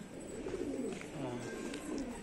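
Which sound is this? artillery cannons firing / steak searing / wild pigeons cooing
wild pigeons cooing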